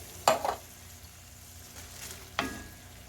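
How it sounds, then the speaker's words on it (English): A spoon stirs goulash with canned tomatoes in a pot, two distinct scraping clinks against the metal a couple of seconds apart over a quiet low bubbling. "And give it a stir."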